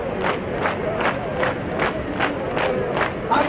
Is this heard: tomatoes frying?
no